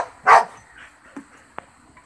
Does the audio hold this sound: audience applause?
no